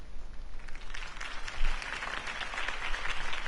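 Crowd applause in the Telltale Batman video game, a broad sustained wash of many hands clapping at moderate level, steady with a slight swell midway, no voices over it.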